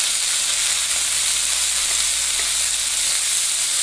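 Chicken pieces frying in a pan for a sweet and sour stir fry, a steady close bright sizzle with no pauses and no voices.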